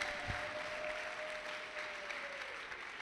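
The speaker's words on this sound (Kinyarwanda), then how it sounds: "Komera Imana amashyi mu izina rya Yesu" A church congregation claps in praise to God, sustained applause heard at moderate distance, with a faint tonal hum running beneath it.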